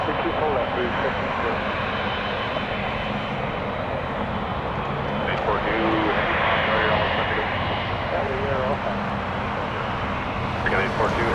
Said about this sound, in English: We got a big Boeing.